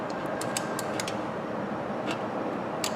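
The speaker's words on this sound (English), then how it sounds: "we're just going to snug it up a little bit with our 8mm combo wrench" An 8mm combination wrench snugging a bolt on a car starter motor, a few light metallic ticks and clicks scattered over a quiet background hiss.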